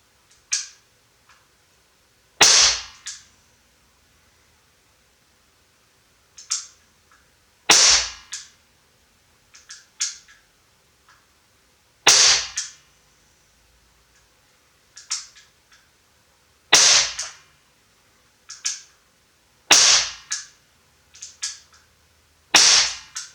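Air pistol shots from cheap Borner PM-X and Blow H-01 pistols fired at a target six meters away: sharp snapping cracks, single or in quick pairs, spaced several seconds apart, loud and close with no speech.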